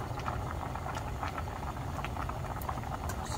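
Doenjang soup with dried radish greens simmers at a steady boil, a dense, continuous bubbling and light patter close by, with no voices over it.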